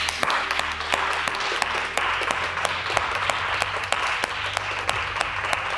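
A group of women applaud themselves with continuous, fairly even clapping from a small crowd, sustained throughout with a few louder individual claps.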